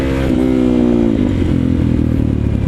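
A motorcycle revs hard in second gear while popping a wheelie uphill, its loud, close engine note climbing steadily, with a rattly mechanical edge.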